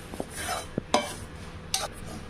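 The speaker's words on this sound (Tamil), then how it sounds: "உப்பு போட்டு நல்லா கிளறி கொடுத்துக்கலாம்." Ragi flour and salt being stirred in a pan, with a few sharp scraping clicks of a spoon against the metal over a soft, steady background.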